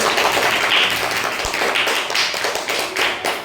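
A group of schoolchildren claps steadily to congratulate a student, a dense, continuous patter of many hands at close range, with no talk over it.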